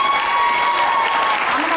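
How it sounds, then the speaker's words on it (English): Dense, steady applause from a crowd at a school choir concert in May 2021, heard as a brief, loud burst of many hands clapping at once. "Feel free to clap."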